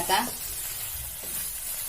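Khoa roasting in a pan for a sesame, khoa and peanut barfi, giving a steady soft sizzle with a brief stirring scrape near the start, close and fairly quiet.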